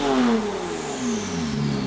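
A Porsche 911 Turbo with a straight-pipe titanium exhaust revs up and then winds down, a loud close engine note that rises briefly before falling away.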